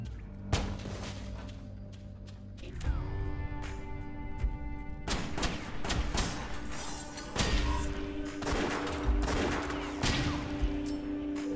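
Gunfire from the West of Dead video game, a run of sharp, punchy shots and bursts scattered across the clip over a steady musical game soundtrack, with some dull thuds between them.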